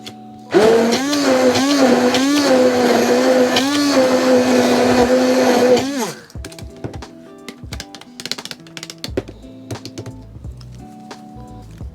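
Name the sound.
blender pureeing tomato for pizza sauce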